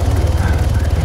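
A small helicopter in the video game Altis Life, a steady low rotor and engine drone with a pulsing beat, close and continuous throughout.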